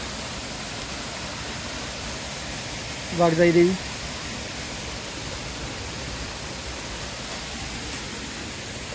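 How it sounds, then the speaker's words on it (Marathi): A waterfall behind the Waghjai Devi temple on the Waghjai Ghat trail gives a steady, even rush of falling water throughout, with one short spoken phrase near the middle. "मागं मस्त धबधबा आहे मंदिराच्या"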